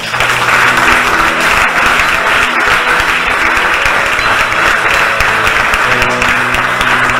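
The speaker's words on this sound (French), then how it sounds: "acclame le Seigneur pour toi-même" A church congregation at a pastor Habib Poaty service applauds the Lord with loud, sustained clapping filling the room, close and continuous for the whole stretch, with faint voices mixed in.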